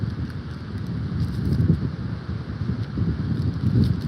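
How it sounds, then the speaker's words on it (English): Strong wind buffets the microphone in a continuous low rumble, gusting louder and softer throughout with no voices. "It's super windy out here"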